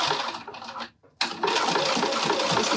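A sewing machine runs steadily while a fabric pouch is sewn, whirring loud and close, with a brief pause before the motor starts again and continues.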